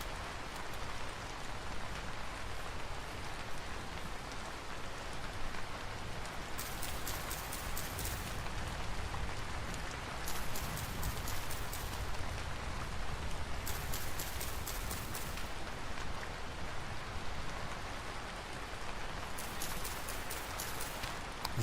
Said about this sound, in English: This rain is a vibe though.